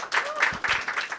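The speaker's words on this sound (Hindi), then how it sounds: "एक बार जोरदार तालियाँ" Audience applause breaks out at an open mic event after a flute performance, a dense wash of clapping from a nearby crowd with a few voices mixed in.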